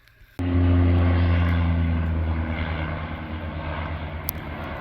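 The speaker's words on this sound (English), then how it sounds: "That's one of the planes coming back from fighting the fires on the river." A firefighting propeller plane flies overhead, returning from fires on a river in northern Saskatchewan: a loud engine drone starts abruptly and stays close and steady, fading slightly, with no talk.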